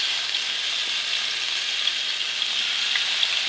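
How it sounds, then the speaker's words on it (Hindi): Fish pieces fry in cooking oil in a frying pan, giving a steady, dense sizzle and crackle that holds at an even level throughout, with small pops here and there and no talking. "इसमें डालेंगे कुकिंग ऑयल और इसमें मच्छी फ्राई कर लेंगे। अब जितने मच्छी के पीस हैं वो हम इसमें डाल देंगे।"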